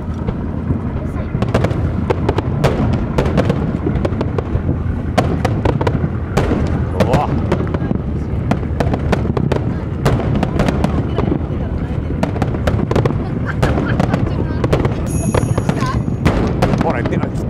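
Fireworks burst over the Yokohama fireworks festival, heard from aboard a private cruiser: a loud, dense barrage of booms and crackling thumps in rapid succession, with people talking and exclaiming throughout.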